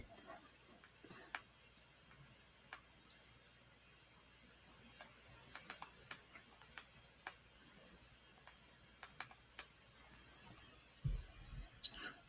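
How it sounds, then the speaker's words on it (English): Typing on a computer keyboard during a live forex trading session, heard as faint, sparse key clicks in irregular bursts over a quiet room, a few louder taps at the end. "going to be typing these TPs up."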